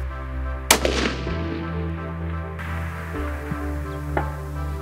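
A single sharp rifle shot cracks at a long-range can target, loud and close, followed by a decaying echo over a steady low background hum, with no talking.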